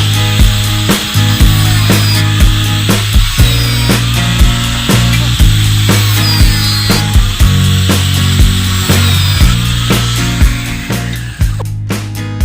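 Steady, loud grinding of a power cutter slicing through metal pipe in a homemade door lock build, a continuous close-up drone with regular rhythmic clacks throughout and no speech.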